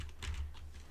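A brief burst of soft keyboard typing, a few quick key clicks close by and fairly quiet.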